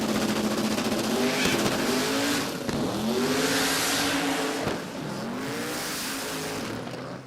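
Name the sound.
race car wheel spin and revving at launch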